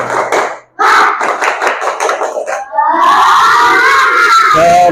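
Schoolchildren in a classroom perform the tepuk semangat clapping chant, with loud rhythmic group claps and shouted voices for a couple of seconds, followed by a sustained burst of excited crowd cheering and shouting.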